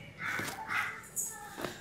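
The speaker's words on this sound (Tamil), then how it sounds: "காக்கா கத்துதா?" A crow cawing in a home setting, two or three harsh, nasal calls heard close by within a couple of seconds.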